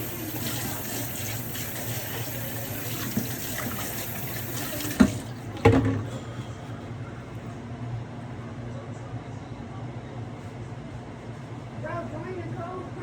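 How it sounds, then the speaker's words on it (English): Water runs steadily from a kitchen tap into a sink as hands are washed before making homemade pot pie, with a couple of louder splashes and clunks near the middle and faint background voices. "So what I normally do is go wash my hands real quick."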